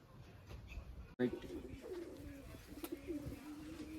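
A white pigeon coos nearby in low, soft repeated calls, with a voice talking over it and some handling noise.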